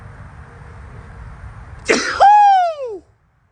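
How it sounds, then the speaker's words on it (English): A single loud, close sneeze bursts out after a quiet moment, with a sharp onset and a falling, trailing voiced tail. "Oh yeah, I'm finna sneeze now."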